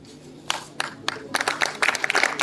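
Scattered claps build into a short burst of applause welcoming a guest at an annual award ceremony and cultural program, starting sparse and thickening toward the end.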